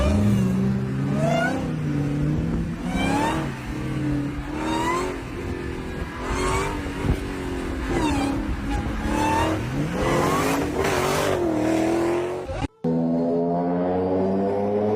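High-revving car engine, a V6, V8, V10 or V12, roars loud and close in repeated rising and falling revs with harmonic whine, then cuts briefly before a steadier idle-like drone.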